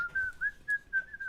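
A person whistles one steady, sustained tone that wavers slightly in pitch, broken into a few short pulses, close and clear with no talking.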